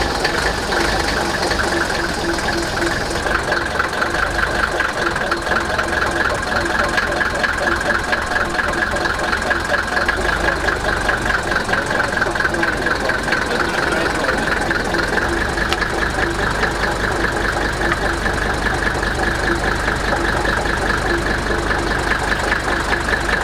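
A Unimog 404 engine runs steadily and loudly close by as the truck drives up onto wood under a wheel, with a constant rough, knocking mechanical drone and no speech.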